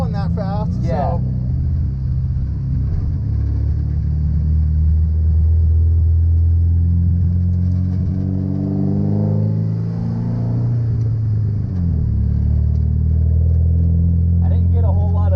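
A car is driven on a track during an HPDE session, its engine a loud, steady low rumble that rises and falls with throttle. People talk inside the cabin over the engine noise.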